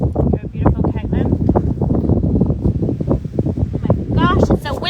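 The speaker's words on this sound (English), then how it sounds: "it's so windy up in here today" Gusty outdoor wind buffets and rumbles close to the microphone in uneven surges, loud throughout with no pause.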